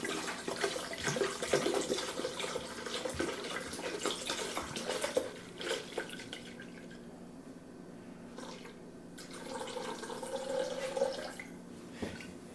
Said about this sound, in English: I'm going to pour in 3 cups of the rum